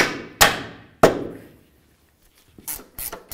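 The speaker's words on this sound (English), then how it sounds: "you can use your rubber mallet and just tap on either side of this control arm" Rubber mallet tapping on the lower control arm of a 2011-2016 Hyundai Elantra: two sharp, ringing knocks close by, then a pause and a quick cluster of lighter taps at the end.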